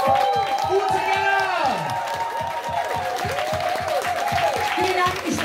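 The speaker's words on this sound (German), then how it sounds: "Und den Applaus, den hast du mehr als verdient." Applause and cheering erupt at a Christmas party in a Cologne pub, dense clapping mixed with loud whoops and shouted voices sliding in pitch, continuous and close.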